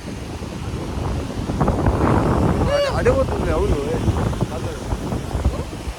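Strong wind buffets the microphone at Hoode beach, a steady broadband roar with faint surf beneath, while people talk over it throughout.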